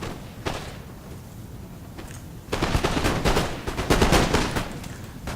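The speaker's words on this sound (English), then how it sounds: "Here they're going to fire at will." Musket infantry firing at will in a Napoleon strategy video game: a few scattered shots at first, then a dense ragged crackle of overlapping gunfire with dull thumps, loud and sustained to the end.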